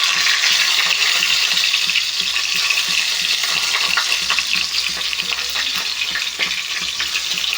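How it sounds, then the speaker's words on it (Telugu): Stuffed brinjals fry in oil in a pan over a low flame, giving a loud, dense, continuous sizzle close up, flecked with small crackles throughout. "ఈ వంకాయలన్నీ కూడా ఇలా సెట్ చేసేసుకొని సిమ్లో పెట్టుకొని ఫ్రై చేసుకోవాలండి"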